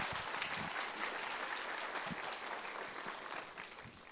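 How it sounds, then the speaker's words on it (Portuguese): An audience at a congress lecture applauds steadily, a dense wash of clapping that stays even for several seconds before easing slightly, heard from a distance and faint. "Uma salva de palmas."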